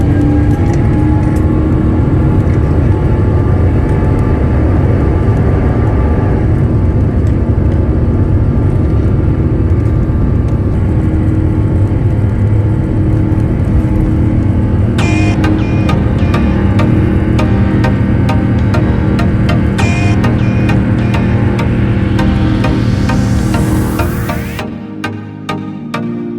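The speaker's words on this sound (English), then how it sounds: "let's take a look at these engines as they ramp up" Twin jet engines of an ITA Airways Airbus A350-900 spool up for takeoff, a loud, steady roar and rumble heard from inside the cabin that builds and holds for about twenty-five seconds before easing off.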